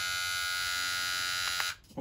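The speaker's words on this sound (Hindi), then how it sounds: "देख सकते हैं आप, ट्रिमर ऑन हो चुका है।" A Mi electric beard trimmer switched on and running, a loud, steady high-pitched motor buzz held for nearly two seconds before cutting out abruptly.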